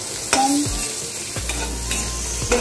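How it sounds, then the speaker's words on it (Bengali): Hog plum (amra) frying in a little oil with turmeric and spices for a Bengali chutney, a steady close sizzle broken by several sharp stirring scrapes. "তেল মশলা দিয়ে এটা ভাজা।"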